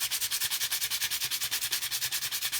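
Sandpaper rubs back and forth over the rails of a fingerboard in quick, even strokes, about ten per second, close up and alone.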